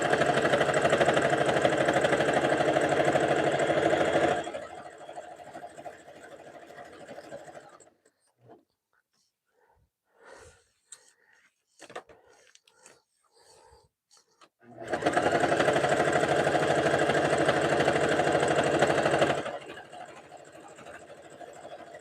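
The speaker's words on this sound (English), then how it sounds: "we're sewing a jelly roll rug" A sewing machine stitching a jelly roll rug runs in two steady, close, rapid bursts, separated by a quiet stretch of small handling clicks and taps.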